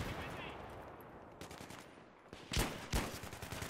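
Gunfire in the video game Battlefield 3: a few sharp shots, with two louder cracks close together near the end, over a low background of game ambience.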